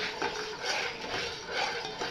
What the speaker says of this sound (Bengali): চিনিটা নাড়তে থাকবেন